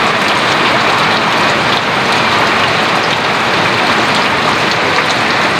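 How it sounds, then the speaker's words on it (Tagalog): Heavy, steady typhoon rain pouring down overnight, a loud dense continuous hiss of drops on surfaces with no letup and no voices. "Magdamag na ulan guys kasi may bagyo nga tayong papasok."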